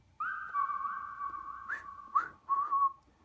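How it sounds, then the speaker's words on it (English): A human whistle sampled and pitched to carry a melody in a music production, a clear sustained tone with a few quick pitch bends and short phrases, alone and close. "I found this one whistle that I did just to help bring out some melody in this sample"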